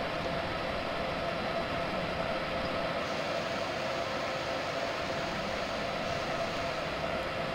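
Steady low rumble and hiss inside a passenger train stopped at New London station on the Old Saybrook to Providence line, a constant even drone with no voices.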